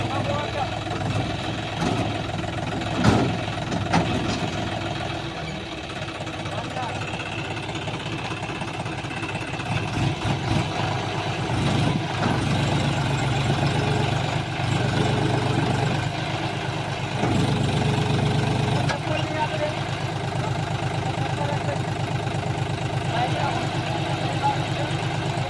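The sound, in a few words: John Deere 5205 tractor engine idling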